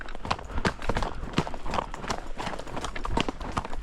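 Shod horses' hooves clip-clop on a stony, pebbly mountain path, a steady run of close, sharp knocks repeating over a constant outdoor background.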